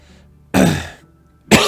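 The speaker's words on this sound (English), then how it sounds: "Sorry for the coughs, by the way." Two harsh throat-clearing coughs from one person, close and loud, a short pause between them, with quiet room tone around.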